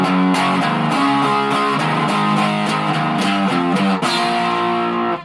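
A distorted electric guitar churns through a dense, continuous riff, loud and saturated, with one accented accidental-note hit partway through before it cuts off.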